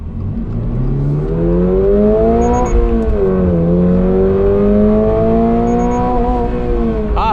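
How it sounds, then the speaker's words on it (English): A 2024 Toyota GR86 sports car accelerates hard uphill on a two-lane road, the engine note climbing through the gears in loud, rising revving sweeps with brief drops at each shift. "this is an uphill acceleration"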